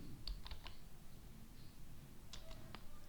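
SQL being typed on a computer keyboard, a few soft, sparse key clicks in two short bursts against a quiet, hissy room background.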